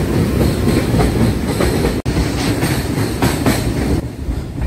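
The 13149 Up Kanchankanya Express from Sealdah crosses the Farakka bridge over the river by day, its carriages clattering loudly and rhythmically with a heavy metallic rattle, broken by one sharp momentary dropout midway.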